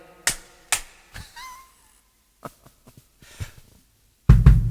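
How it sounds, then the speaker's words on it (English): A few separate hand claps ring out in a quiet room, several sharp, close smacks spaced apart with silence between them, followed by a burst of louder, rumbling noise at the end. "Slap your hands together"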